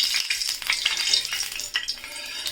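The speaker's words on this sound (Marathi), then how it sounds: "आता तेलसुद्धा आपल्याला चांगलं तापवून घ्यायचं आहे" Oil sizzling and crackling on a hot tawa before frying bangda mackerel, a steady close hiss with small stirring scrapes, no voices.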